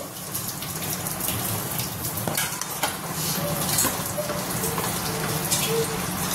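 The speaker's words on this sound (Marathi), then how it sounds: "मध्ये बेसन पाण्यामध्ये मिक्स केलं, ओतायचं हळूहळू." Gram flour mixed with water is poured slowly into a hot pan for pithla, giving a continuous crackling sizzle with faint scraping and a few light taps.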